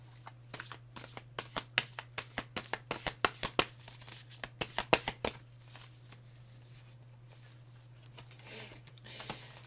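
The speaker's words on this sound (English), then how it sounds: "And I've been shuffling, okay, in between these." Tarot cards being riffled and shuffled in quick crisp bursts for several seconds, then quieter handling and soft rustling over a steady low hum.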